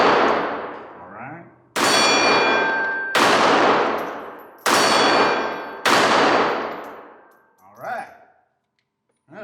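Smith & Wesson M&P 380 Shield EZ pistol firing at a range target: four loud, sharp shots spaced over several seconds, each ringing out and decaying, with brief voice sounds near the end.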